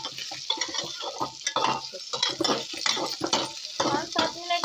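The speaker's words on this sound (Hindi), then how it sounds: "इसी में मैं सोयाबीन डालूंगी तो सोयाबीन भी अच्छे से भुज जाएगा" Soybeans roast in a hot pan and are stirred, giving soft sizzling with scraping and rustling strokes in an irregular rhythm, heard up close.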